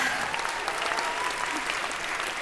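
An enthusiastic audience applauds in a concert hall, steady dense clapping filling the space at a constant level with no break.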